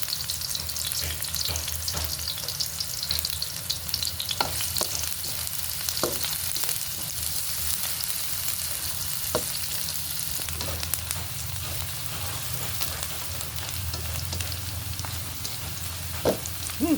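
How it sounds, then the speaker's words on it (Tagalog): Onion and garlic sautéing in a hot pan for goat sinampalukan, a steady close sizzle with occasional stirring scrapes and clinks throughout. "lagay na po natin ating sibuyas. Lagay na rin natin bawang"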